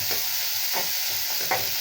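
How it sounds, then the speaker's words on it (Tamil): Onions, green chillies and curry leaves being sautéed in a pan, a steady frying hiss with three soft stirring scrapes at even intervals, close and alone with no talk. "நல்லா வதக்கிட்டு இப்படி நல்லா வதக்கணுங்க"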